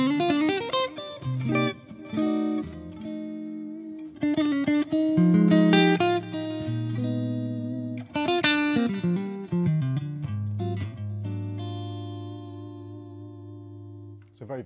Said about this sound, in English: Select the neck pickup, nice jazzy tones.